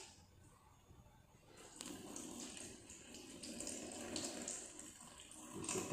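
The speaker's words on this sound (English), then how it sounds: "now I am going to remove the supernatant here" Supernatant liquid poured off the top of a beaker of settled starch during a starch extraction practical, a steady splashing trickle of water starting after a quiet moment and continuing close by, alone without talk.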